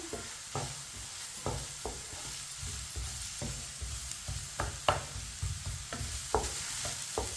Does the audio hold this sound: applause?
no